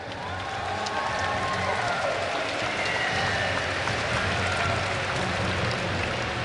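Esports arena crowd at a European regionals match cheering and applauding for Moscow 5, a dense, continuous wash of clapping and shouts with some whoops rising above it.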